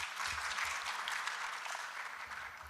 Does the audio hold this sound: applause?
yes